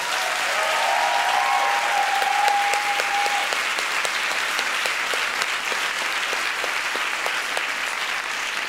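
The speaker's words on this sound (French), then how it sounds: "on peut l'applaudir" Sustained applause from a large audience, loud and even throughout, with a brief whistle-like tone early on.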